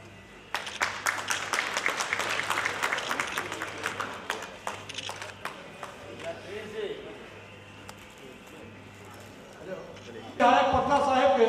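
Scattered hand claps from an audience welcoming guests at a souvenir release ceremony, rising into a brisk ragged patter for several seconds, then thinning to sporadic claps before a louder burst of sound at the end.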